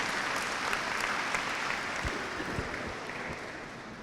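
In a cathedral during a children's Christmas Eve Mass, many people applaud in a steady reverberant wash of clapping, with a few low thumps beneath and the sound easing slightly toward the end.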